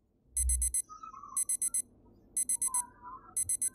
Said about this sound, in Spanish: La alarma a mi lado suena en mi oído sin parar.